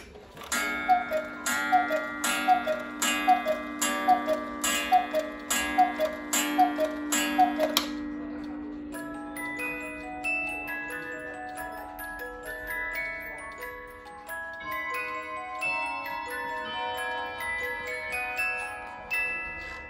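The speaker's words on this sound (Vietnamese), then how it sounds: "để các bác được thưởng thức âm thanh của một chiếc đồng hồ cucu mới nguyên hộp là như thế nào" A brand-new German cuckoo clock ticks in a steady, close, even rhythm for several seconds, then a tinkling mechanical melody plays on, with no talking.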